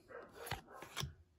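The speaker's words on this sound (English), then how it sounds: "Apologize for my dog barking." A pet dog barks indoors in a home, apparently at a delivery driver seen outside: a few sharp, moderately loud barks spaced about half a second apart, with no one talking.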